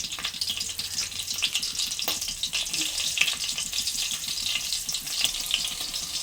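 Fenugreek seeds, cumin and cut green chillies sizzle and crackle steadily in hot oil in a pan for a Telugu crab curry, a dense continuous frying hiss with occasional sharper pops.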